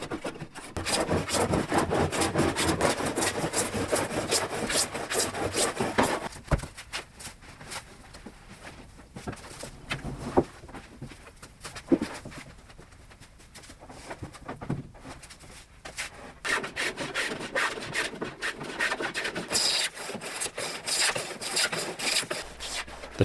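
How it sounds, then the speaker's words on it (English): Long stretches of steady scraping and rasping while flattening a wooden workbench top, like a hand plane or rasp worked back and forth, pausing briefly midway before resuming. "Once the top panels are secured, it's time to flatten."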